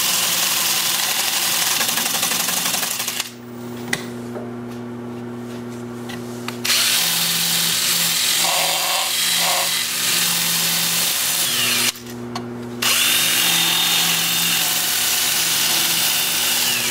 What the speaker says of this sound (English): So let me get my mask on, and we'll get to sanding.